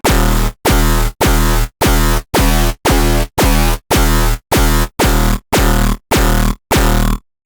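Tearout dubstep wavetable synth bass preset, harsh and growling, hitting in a steady series of about a dozen loud, evenly spaced short blasts with brief gaps between them.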